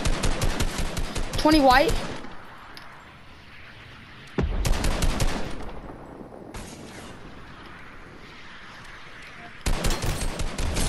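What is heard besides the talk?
gunfire in a build fight in Fortnite video game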